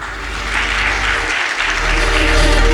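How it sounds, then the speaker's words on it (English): A crowd applauds at a corporate data and storage conference in India as a speaker is welcomed to the stage; loud, dense clapping runs steadily throughout. "let's give a big round of applause"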